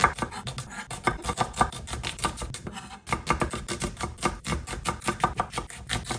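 Knife thinly slicing onions for biryani on a cutting board, a fast, even run of close, crisp chopping taps with a brief pause midway, no voices.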